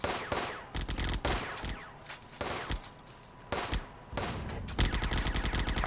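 Repeated explosive launches and gunfire in the tactical war game Firefight, arriving as heavy bursts separated by brief pauses, with mechanical rattling between them and no speech.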